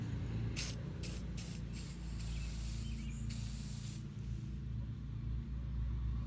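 Lubricant sprays onto a stuck rear brake drum on a 1962 Ford F250 4x4 in several short hissing bursts, then stops, over a low rumbling background.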